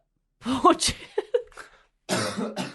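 A couple of stifled coughs and throat sounds amid speech-like vocal bursts, followed by a pause and then more voice.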